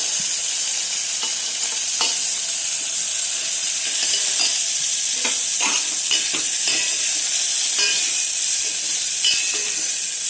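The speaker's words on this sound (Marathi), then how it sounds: "हे घालायचे टोमॅटो चांगले परतून घ्यायचेत आपल्याला" Two finely chopped tomatoes sauté in a pan over a low flame, giving a constant close, bright sizzle broken by scraping stirring strokes, with no voices.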